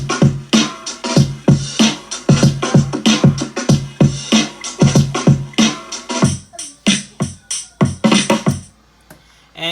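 A drum beat that layers a looped drum groove with programmed MIDI drums: a dense, steady rhythm of punchy kicks and crisp snares and hats, loud and up front, with no talking, dropping out briefly near the end.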